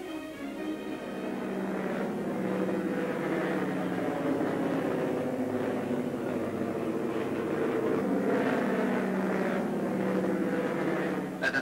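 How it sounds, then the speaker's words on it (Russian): A 1950s Soviet airliner landing on a regular service flight in Yakutia, a steady loud engine drone with a broad roar held for the whole stretch. "Этот самолет обычным своим рейсом прибыл из бухты Тикси."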